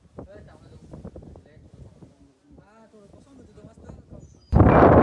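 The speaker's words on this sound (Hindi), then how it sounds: "यहाँ की हवा देख रहे हो, इतनी तेज हवा चल रही है कि खड़े रहना भी मुश्किल हो रहा है" Strong wind blows at Salher Fort, a hilltop fort on a trekking route. Someone talks over faint background air before a loud, roaring gust buffets the microphone at the very end.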